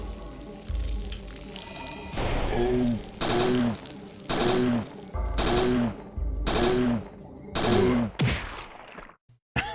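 Repeated bursts of gunfire in the video game Parasite Eve II, six or seven short volleys at a steady rhythm, each with a ringing tonal tail, ending abruptly.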